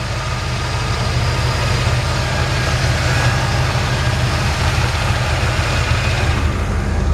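A 1951 Chevrolet 3100 pickup truck engine idles steadily up close, a loud, even low rumble with a constant pulsing beat and no talk.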